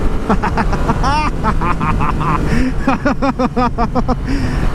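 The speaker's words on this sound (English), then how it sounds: "Oh, this is one of those engines. I like these." A Yamaha FZ-09 motorcycle engine runs with a steady, close rumble throughout, while a rider's voice rises and falls in wordless exclamations over it.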